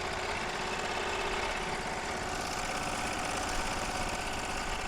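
A Melco Bravo EMT16X embroidery machine runs outdoors, a steady, loud mechanical whir with rapid needle chatter and no pauses or talking.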